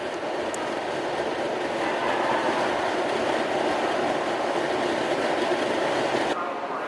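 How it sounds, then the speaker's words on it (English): An EPCOT monorail glides along its elevated track past the Imagination Pavilion, heard from inside as a steady, close rumbling roar with a broad hiss that holds even for about six seconds before easing slightly at the end. "Monorail coming around right next to the Magic Eye Theater, the Imagination Pavilion."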